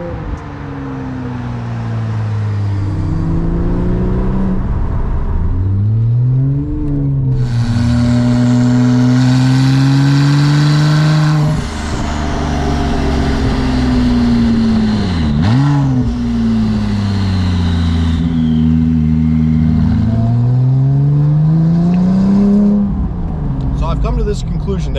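A beat-up older Porsche 911 Turbo on straight pipes, windows down and sunroof open, revs and pulls hard with a loud, raspy exhaust note that rises and falls through gear changes, continuous and close for the whole stretch.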